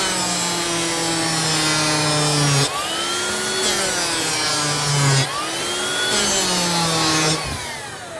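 A drum sander takes lacquer off wood: a loud, steady whirring grind with shifting tonal whine, rising and easing in several passes as the drum works the surface, no voices.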